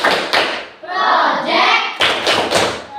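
A classroom of students performing the "Tepuk 5" rhythmic clap chant, sharp grouped claps near and loud with chanted voices between the bursts.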